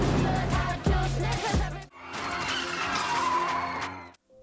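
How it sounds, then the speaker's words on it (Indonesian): A car speeds away from a bar, its tires squealing and skidding loudly at the start before the engine settles into a fast, receding rush. "Mereka segera masuk ke mobil dan meninggalkan bar itu."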